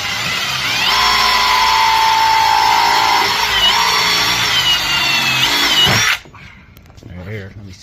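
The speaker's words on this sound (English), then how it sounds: "hold the drill completely straight with the pipe this time" A power drill whines steadily as it bores into a pipe during HVAC brazing practice, loud and continuous for about six seconds before cutting off, with people talking around it.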